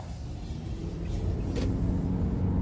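A 2017 Toyota Camry Hybrid XLE on a road test drive, heard as a steady low rumble of road and engine noise that builds slightly as it gathers speed.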